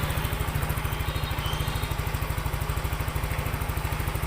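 Yamaha scooter engine idling, small single-cylinder motor from the Xride, Mio Fino, Mio J or Mio GT range, a steady rapid low putter with fast even pulses and some mechanical clatter, moderately close, no voices.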